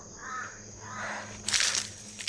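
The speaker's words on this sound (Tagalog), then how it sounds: "Daming uwak dito." Several crows caw outdoors, a few harsh calls spaced apart, moderately near, with a burst of rustling noise toward the end.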